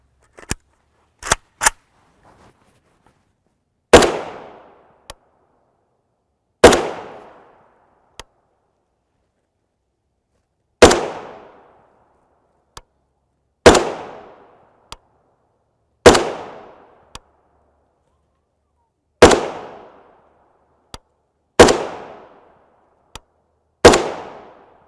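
A rifle fires 7.62x39mm 123-grain FMJ Zinc Point rounds in a steady series of about nine sharp, loud cracks with short decaying tails, spaced a few seconds apart after a couple of quicker early shots, no talking.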